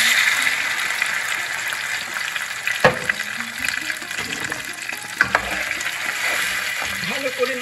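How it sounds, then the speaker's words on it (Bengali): Raisins, cashews and yogurt masala stirred in a frying pan for a lentil cake curry, giving a steady close sizzle with spoon scrapes and knocks against the pan throughout. "ভালো করে নাড়তে হবে"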